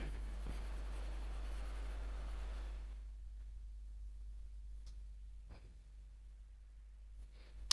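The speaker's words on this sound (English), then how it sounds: "So let me write it down." Numbers are written down during a binary place-value lesson, a faint scratching of writing over a low steady hum with a few soft clicks and no talking.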